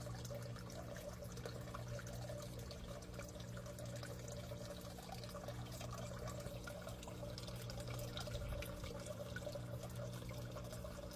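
Quiet, continuous trickle of water running back into the sump of a DIY solar-powered aquaponics system, with a low steady hum underneath and no voices.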